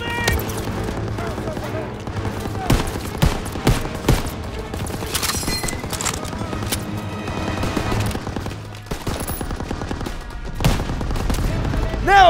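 Dense, continuous machine gun fire and explosions in a Call of Duty D-Day invasion battle, with rapid bursts throughout and shouted voices over the din.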